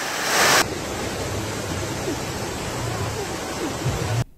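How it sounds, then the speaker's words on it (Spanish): Steady broadband rush of floodwater after heavy rain, loud and continuous, pouring fast through flooded streets, with a brief louder hiss at the start. "una fuerte lluvia que inundó vías principales"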